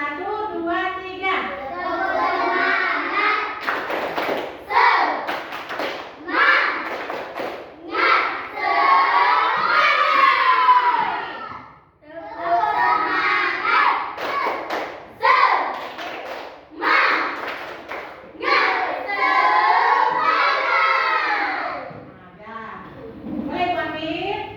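A class of children does a rhythmic cheer clap, with bursts of claps and thumps mixed with the kids chanting and shouting loudly, repeated in several rounds with short pauses.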